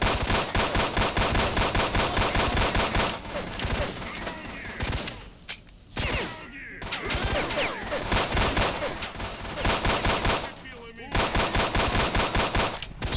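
Gunfire in S.T.A.L.K.E.R.: Shadow of Chernobyl, with sustained bursts of automatic fire that break off in short gaps and then resume, loud and close with no talking.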